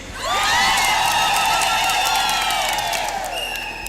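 A crowd at a Catholic diocesan jubilee celebration with visiting bishops breaks into loud, sustained clapping mixed with high ululating cheers and whoops, rising quickly and holding steady for several seconds.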